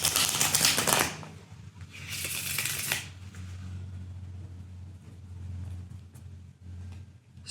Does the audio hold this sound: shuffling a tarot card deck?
yes